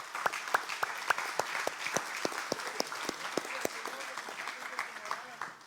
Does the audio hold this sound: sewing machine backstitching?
no